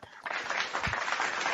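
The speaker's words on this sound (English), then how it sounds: "Paul, hit the claps. Hit that clap thing." A clap sound effect fired from a beat machine during a live podcast taping rings out as a dense, continuous wash of applause-like clapping at moderate level, with no voice over it.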